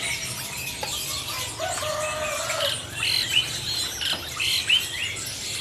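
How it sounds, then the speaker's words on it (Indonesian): Caged songbirds at a bird-selling kiosk chirp and tweet in short bright bursts over a steady background hum, with one lower call partway through; no talking. "Ada juga stok burung terucukan teman-teman."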